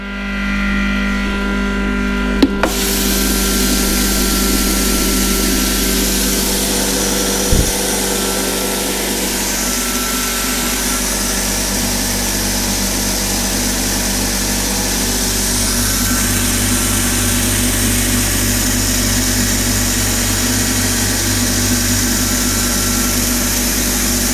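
A grain crusher (kruporushka) starts up and runs with a loud, steady mechanical roar and whine that holds for the whole stretch, with a few brief knocks near the start.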